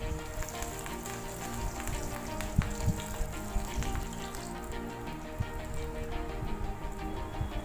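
Water leaf tips coated in gram flour batter frying in hot oil, giving a steady, dense sizzle and crackle throughout with small pops, close and continuous with no voices.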